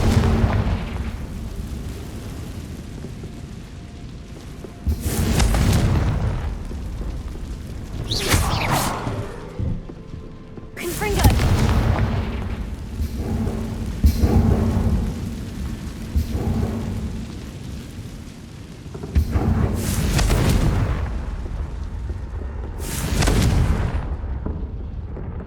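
Confringo fire spell blasts in Hogwarts Legacy, several loud booming explosions with rumbling tails, spaced a few seconds apart over a low ambient drone, no talking.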